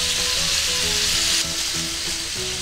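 Thick sausage steak sizzling loudly in a pan after water is added, steaming under an aluminium foil cover on a cassette gas stove; a dense, steady hiss with a slight drop in intensity midway, no voices.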